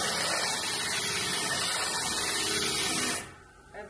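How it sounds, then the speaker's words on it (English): A glass grinder works a glass piece against a wet, water-fed grinding pad, giving a steady, fairly loud hissing whir that runs continuously and then drops away near the end. "Then I grab the piece I wanna grind"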